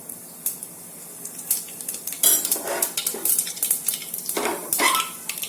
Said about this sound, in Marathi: तेल तापलं की याच्यामध्ये आपण मोहरी टाकूया आणि जिरं टाकूया